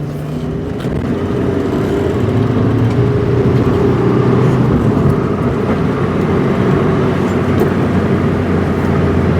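A Rover L-series car with a power problem accelerates hard in third gear on a wet road, its engine droning steadily with rising strain under a constant roar of tyre and road noise from inside the cabin.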